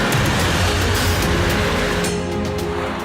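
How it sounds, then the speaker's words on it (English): A 2014 Porsche 911 Turbo S under launch control at maximum acceleration, a loud steady engine and road roar heard close and continuous, easing slightly toward the end. "Now release the brake as quickly as possible and be prepared for maximum acceleration."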